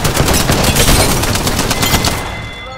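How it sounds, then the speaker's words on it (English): Rapid, dense gunfire in the video game Apex Legends, sustained bursts of shots packed close together, loud and continuous before tapering slightly at the end, with no talking. "Getting shot at!"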